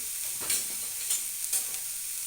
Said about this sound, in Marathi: त्याला मस्त थोडंसं तेल टाकते